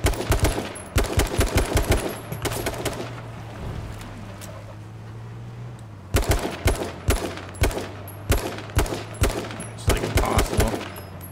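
Gunfire in the video game H1Z1 King of the Kill, loud rapid bursts of automatic shots in clusters with a brief lull between them, heard alone.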